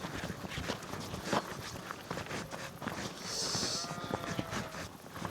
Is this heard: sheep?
yes